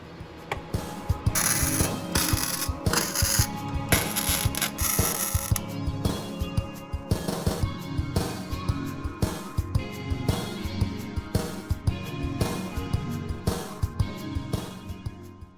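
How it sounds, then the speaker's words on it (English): Cheap Amazon welder running beads to fill holes in a Datsun 240z body, a dense continuous crackle and sputter with rapid irregular pops, steady and close throughout. "I guess it's time to weld"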